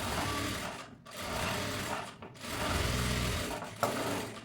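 A sewing machine stitching a blouse whirs in three close, steady runs separated by brief pauses, with small mechanical clicks and no talking.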